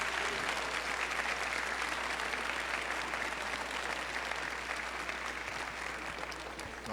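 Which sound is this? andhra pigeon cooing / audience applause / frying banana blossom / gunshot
audience applause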